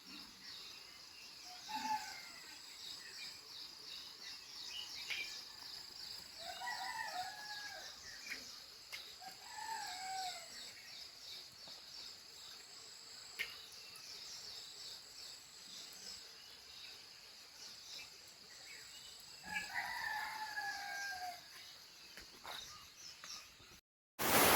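A rooster crows several times from a distance around a Konkan village home in the early morning, faint drawn-out calls rising over a steady chorus of crickets and insects, with no voices heard.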